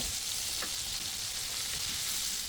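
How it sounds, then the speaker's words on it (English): Garlic sizzles in melted butter in a pan. A steady, close, bright hiss holds through the clip at an even level, with a faint stir near the start and no talking. "Let's add our garlic so we can get a quick little sweat on that as well"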